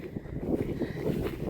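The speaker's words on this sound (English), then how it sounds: "oh, it's so windy." Strong wind gusting through a garden and buffeting the microphone, a low rumbling roar that surges and dips over a short stretch with no speech.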